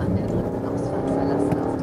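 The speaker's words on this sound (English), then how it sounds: "And to push the throttle a little bit more." A Volvo XC90 T6 Inscription with its 320 hp petrol turbo engine accelerates, a loud steady low engine and road drone rising slightly, with a voice talking over it.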